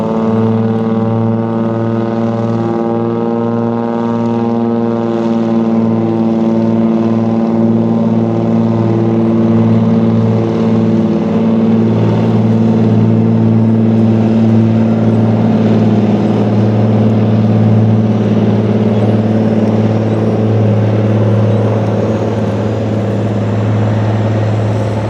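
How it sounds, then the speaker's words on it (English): An aircraft takes off with a loud, steady engine drone carrying a strong, even harmonic hum that holds throughout, heard close and with no talk. "here we go with the takeoff"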